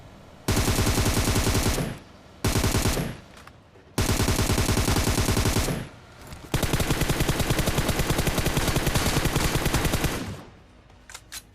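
Rapid automatic gunfire in a shooting video game, several loud sustained bursts of dense shots separated by short pauses, the longest burst running several seconds, no speech.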